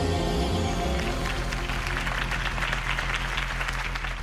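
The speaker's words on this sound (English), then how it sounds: "could have heard that applause" A crowd claps and cheers steadily at a political campaign speech in the Telltale Batman video game, a dense wash of applause that holds at a strong level throughout with a low hum beneath it.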